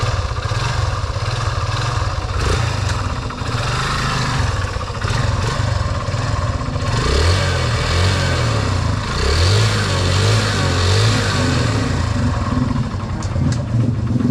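A clutch-equipped motorcycle being ridden, with continuous loud engine drone and wind noise, the engine note rising and falling as it revs and brakes on the engine.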